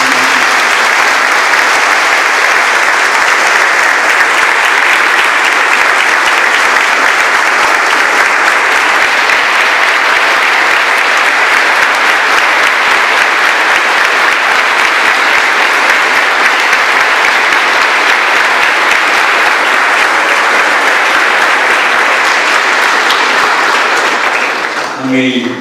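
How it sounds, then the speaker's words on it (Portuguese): A church congregation at a memorial service in Tramandaí claps together in loud, sustained applause that holds steady for the whole stretch before tapering off at the very end. "Agora eu quero pedir um forte aplauso."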